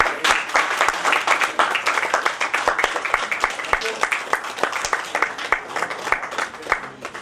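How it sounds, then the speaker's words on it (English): An audience at a book launch applauds steadily, with sharp individual claps standing out in the crowd, while voices talk over the clapping throughout. "And can we please clap?"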